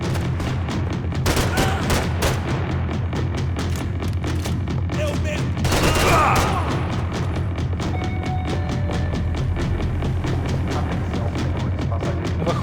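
Rapid bursts of gunfire crack through the Max Payne 3 video game, with repeated sharp shots and booms over a steady, droning background and a brief heavier volley near the middle.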